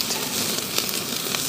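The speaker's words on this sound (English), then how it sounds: "Something primordial about looking into the fire, watching your meat being cooked." A hamburger patty sizzles over an open barbecue fire: a steady, close, hissing crackle with small pops, continuous and without speech.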